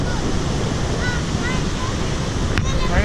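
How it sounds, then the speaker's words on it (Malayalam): Gokak waterfall in Karnataka roars up close, a loud constant broadband rush with wind buffeting the microphone. "അങ്ങനെ നമ്മൾ ഏറ്റവും വെള്ളച്ചാട്ടത്തിന് ഏറ്റവും അടുത്ത് പോവാണ്"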